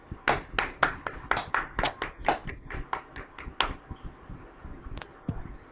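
Scattered handclaps from a small group of people at an online school farewell event, a quick irregular burst of loud claps that thins out to a few isolated claps near the end.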